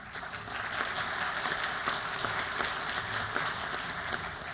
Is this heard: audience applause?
yes